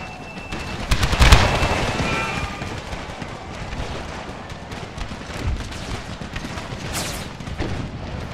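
Cannon and rifle fire crack and boom in an American Civil War battle in the Empire: Total War strategy game. Scattered gunshots and a few heavy artillery blasts roll over a steady, distant battlefield rumble.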